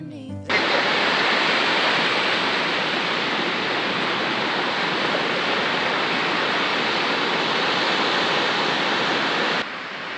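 Sea waves pour over a coastal wall on the Northumberland coast, making a loud, unbroken rushing roar like a waterfall that runs for nearly ten seconds before cutting off.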